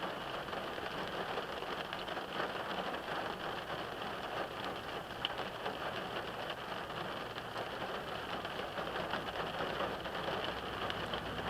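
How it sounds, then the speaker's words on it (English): Steady rain hisses outside in an unbroken, moderately quiet wash, with a faint low rumble underneath and no speech. "I think the rain's back."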